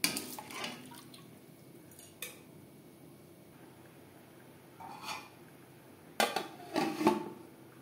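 Washed rice goes into a pot of hot salted water for mutton biryani: a few clinks of metal utensils and pot, soft watery splashes and drips, quiet apart from scattered clattering bursts.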